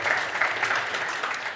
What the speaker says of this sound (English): So I would like you to give a big applause to the presenters that have already shared with us their ideas.